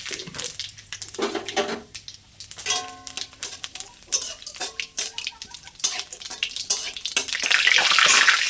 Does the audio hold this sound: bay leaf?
yes